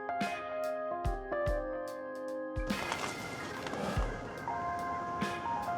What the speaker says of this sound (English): And there's a van for the end.